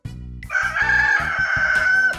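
A rooster crows a single loud, drawn-out cock-a-doodle-doo, heard close and clear with nothing else in the background.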